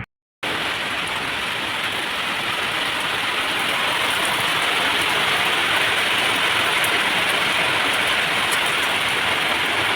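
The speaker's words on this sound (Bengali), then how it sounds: "কি সুন্দর বৃষ্টি পড়ছে" Steady, heavy rain pours down without a break, a dense hiss of drops hitting surfaces close by, with no voices.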